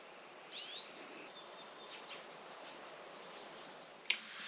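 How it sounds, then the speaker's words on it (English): Birds sing outside a lakeside cabin in the morning mist: a brief bright twittering burst near the start, then faint scattered chirps and a sharp call near the end over a quiet background. "You hear the birds."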